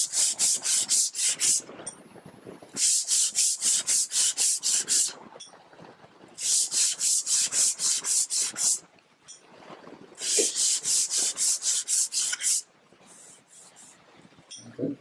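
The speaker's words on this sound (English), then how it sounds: "I'm not going to spend a lot of the time sanding it here because we don't want to make that much sand dust" Hand sanding a tapered wooden spindle with the grain, rapid rhythmic rasping strokes in several long bursts separated by short pauses, close and fairly loud.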